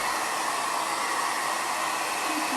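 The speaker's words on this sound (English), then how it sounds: "This is just a blow dryer." A hair dryer blows steadily to dry a chalk transfer on a wooden board, a constant close whooshing roar with no pauses or talk.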